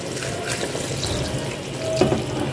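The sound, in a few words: water poured into turnips in cooking pot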